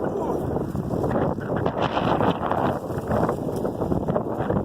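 Wind blowing outdoors in spring, a steady broadband rush with gusty buffeting across the microphone throughout, with voices talking underneath.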